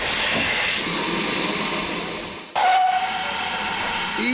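Steam locomotive 5526 on the South Devon Railway slipping as it pulls away from a station, loud hissing steam and chuffing that briefly drops away, then a sharp burst of steam and a whistle-like tone.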